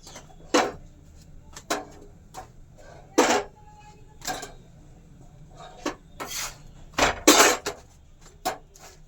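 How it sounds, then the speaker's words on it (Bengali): Rotis are roasted one by one in a pan at home, with a series of sharp, close clanks and taps of utensils against the pan at irregular intervals over a faint background hum, no talking. "এইবারে হচ্ছে রুটিগুলো আমি একে একে সেকে নেব"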